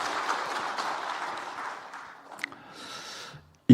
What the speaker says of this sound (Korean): 우리 박수 한번 드릴까요?